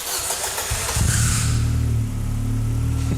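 A sporty car's engine cranks briefly, catches, and settles into a steady, loud idle close by, with no voices over it.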